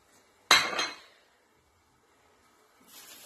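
Casserole pot set down for making mango coulis, a single sharp metallic clank with a short ringing decay, close and fairly loud, followed by quiet rustling.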